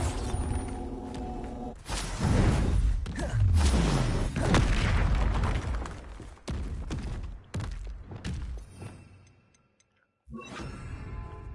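Bombarda spell blasts in Hogwarts Legacy, a series of loud booming explosions with crackling debris and shattering bursts, separated by brief lulls and a short moment of silence near the end.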